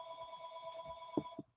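A telephone keeps ringing in the background during an online board meeting, a steady electronic ring sounding continuously before cutting off near the end, with a couple of faint knocks just before it stops.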